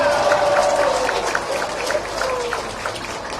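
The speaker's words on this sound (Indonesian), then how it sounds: "Nah itu baru tepuk tangan" A crowd at an open public forum breaks into applause, with a loud wash of clapping and some cheering that swells at first and then eases a little.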